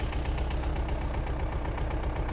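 A tractor engine drones steadily in a field while spraying a wheat crop, a loud continuous low rumble with a faint regular knocking pulse and no voices.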